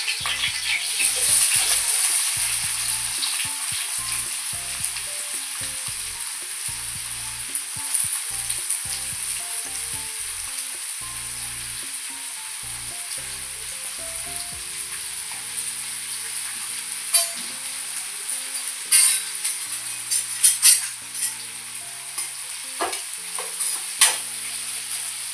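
Onions with fennel seeds fry in hot oil, a loud continuous sizzle close up, with repeated scraping and clattering of a spoon stirring in the pan, busier toward the end.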